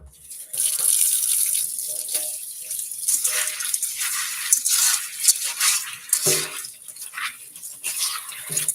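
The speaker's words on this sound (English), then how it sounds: "These beans are dirty. You want to rinse them off." Dirty beans are rinsed under a running tap in a dish strainer, a continuous close splashing of water with the beans shifting and rattling beneath the flow.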